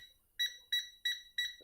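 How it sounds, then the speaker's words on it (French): A Tesmen TM-510 multimeter's cable detector gives four clean, high electronic beeps in quick succession, evenly spaced and fairly quiet, with no talk. "on entend le bip qui ralentit et qui augmente son rythme"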